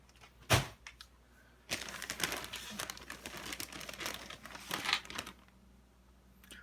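Synthetic filter fiber for a betta cup sponge filter being handled, giving crinkly rustling bursts, one sharp crackle early then a longer stretch of irregular close crumpling, with no talk.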